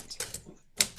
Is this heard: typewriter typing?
yes